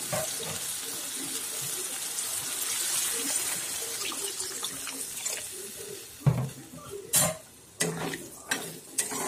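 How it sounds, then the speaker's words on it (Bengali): Water is poured into a pan of poppy seed paste that has been lightly fried over medium heat until its oil separates. A steady splashing pour is followed by a few sharp, louder bursts near the end. "এবার এতে আমি দিয়ে দেব কিছুটা জল"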